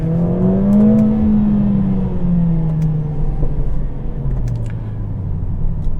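A 2022 Mercedes-AMG CLA45s engine revs hard as it pulls through paddle-shifted gears, a loud, close, rising then falling drone with steady low rumble and a few faint pops.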